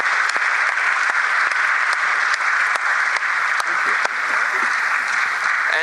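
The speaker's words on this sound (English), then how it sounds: "please give a big round of applause to our speakers" Sustained, dense applause from a large audience at a youth day forum, loud and steady for the full stretch, with scattered sharper claps standing out.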